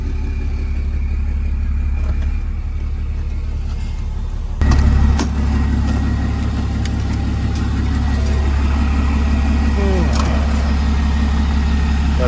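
A Cummins diesel truck engine idles steadily and close, with a sharp shift in tone partway through as one engine gives way to another, and a low rumble continuing throughout.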